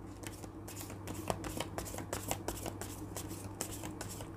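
Tarot cards being shuffled during a fortune reading: a close, quiet run of crisp riffling flicks and soft card slaps in an uneven rhythm, with no talking.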